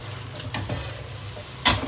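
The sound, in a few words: beef frying and being stirred in oil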